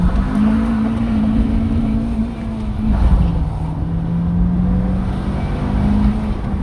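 Acura RSX with a high-engaging clutch accelerating hard during a short pull, a loud close engine drone with a steady tone that dips and rises as it gathers speed.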